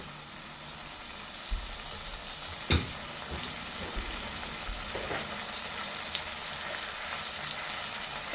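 Chopped tomatoes frying in a pan for a brinjal curry, giving a steady close sizzle throughout with occasional soft stirring knocks and one sharper clatter.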